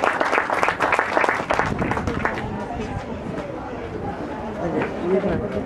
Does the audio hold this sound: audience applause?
yes